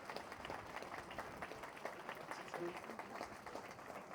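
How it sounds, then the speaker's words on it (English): A small crowd at a motor museum opening gives a round of applause, faint, fairly distant clapping with scattered individual claps and a low murmur of voices mixed in. "So another big round of applause for Patrick"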